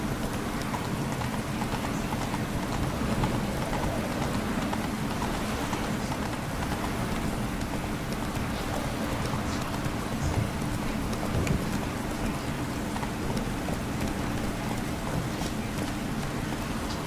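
Video game horse hooves clip-clopping at a steady trot through rain, continuous rhythmic beats under a constant rain hiss, close and fairly loud throughout.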